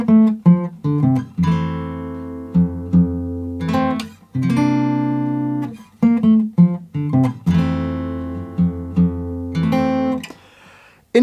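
Fingerstyle acoustic guitar playing the opening four bars of a song: plucked chords and bass notes in a gentle, uneven rhythm with short pauses between phrases, close and solo without any voice.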